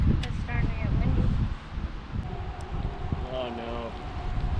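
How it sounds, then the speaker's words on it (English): Wind gusts over a cloudy, cold lake at a northern Wisconsin resort, making a steady broadband rush with rustling. Voices talk over it, and it is strongest at the start. "It's starting to get windy."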